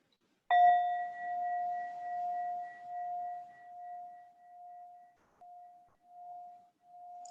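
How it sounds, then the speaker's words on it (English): A meditation bell is struck once, a clear ringing tone that sustains and slowly pulses as it fades over several seconds in a quiet room. "with the strike of the bell"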